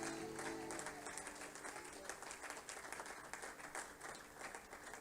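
A church congregation applauding, a sustained wash of many hands clapping that is strongest at the start and then thins and fades a little, heard from within the room.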